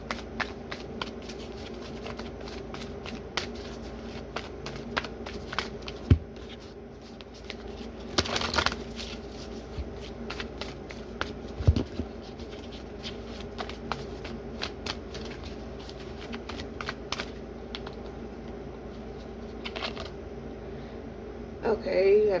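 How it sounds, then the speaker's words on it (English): Cards are shuffled and riffled close by in repeated bursts of quick, crisp flutters, with soft rustling and taps in between. "let me shuffle these cards"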